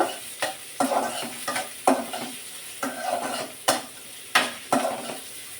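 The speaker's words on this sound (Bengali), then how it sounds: "পেঁয়াজগুলো একটু সফট হতে থাক" Onions fry in a pan until soft, stirred repeatedly so the sizzle swells in regular bursts with sharp scrapes and clicks of the spoon against the metal, close and clear.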